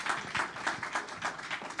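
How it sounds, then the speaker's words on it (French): A church congregation claps together during a praise and testimony night at the Primitive Church of Ottawa, a steady, fairly faint patter of many hands heard from across the hall. "On applaudit le Seigneur."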